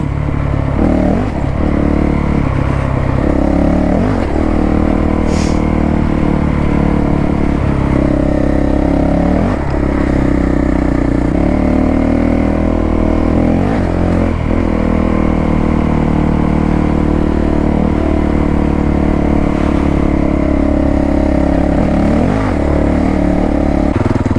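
A Honda CRF450L dual-sport motorcycle rides a rough fire trail, its engine droning loud and close throughout with repeated rises and dips of revving, a missed gear change and mechanical clatter over bumps.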